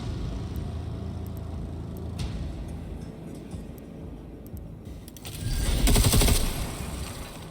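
Gunfire in the video game Necromunda, with rapid bursts of shots over a low rumbling backdrop, building to a louder cluster of rattling reports near the end.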